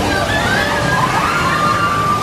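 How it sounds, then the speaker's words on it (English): Water pours and splashes continuously at a waterfall on the Ripsaw Falls log flume ride at Universal's Islands of Adventure, a steady rushing wash with a faint voice-like tone over it. "this little waterfall, this is one of the spots where you can get really drenched"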